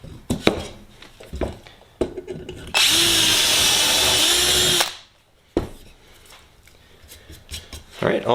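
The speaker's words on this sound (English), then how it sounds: "all the pilot holes are drilled" A power drill bores pilot holes through a Sonex aircraft's aileron counterweight in a workshop, one loud, steady whine of about two seconds with a sharp cutoff, set between clatter and handling noise.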